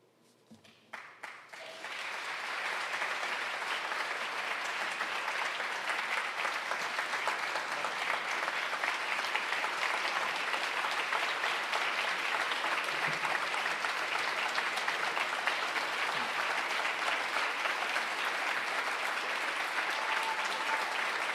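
Sustained audience applause at a memorial-to-celebration ceremony, starting with a few scattered claps and swelling into dense, even clapping that continues at a moderate distance for about twenty seconds.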